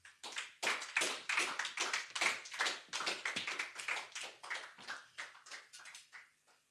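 A church congregation claps together in a fast, steady rhythm, many hands close and loud, with no talking over it before the clapping tapers off at the end.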